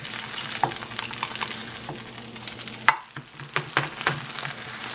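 A VeganEgg omelette cooks in a pan over lowish heat, giving a steady soft sizzle broken by a few close scraping and stirring taps.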